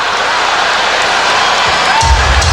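Basketball crowd booing and roaring at Dennis Rodman after a foul in a 1997 Eastern Conference Finals game between the Bulls and Heat, a constant loud arena wash with a low thump near the end.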